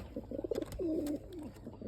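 Domestic pigeons kept for pigeon keeping coo nearby in a series of soft, throaty, rolling calls, one longer drawn-out coo in the middle, with faint rustling around them.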